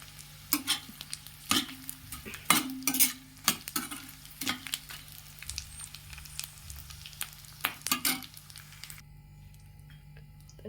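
Edible gum (dink) fries and puffs in a pan for dry fruit laddu, with a soft sizzle under intermittent scraping and clinking stirs. The stirs come in uneven bursts, then the sound drops off near the end.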